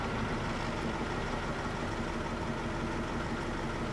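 A car engine idles with a steady, even rumble for several seconds and no change in pitch. No voices are heard.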